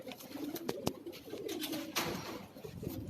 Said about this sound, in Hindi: ये नापैद हो चुकी हैं कबूतर।